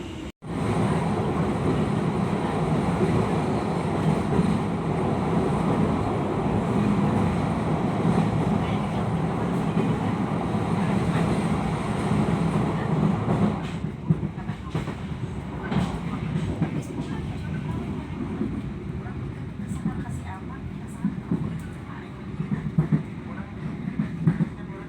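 Steady rumbling rail noise from inside the KA Kutojaya Selatan passenger train rolling near Kroya, a continuous loud roar with faint clatter, easing slightly partway through; speech is present.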